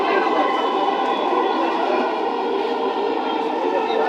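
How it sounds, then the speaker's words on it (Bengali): Inside a crowded moving passenger train on a busy Friday, a steady dense rumble of wheels and carriage noise fills the cabin at constant level, with no clear talk over it. "আমরা এখন ট্রেনের ভিতরে আছি"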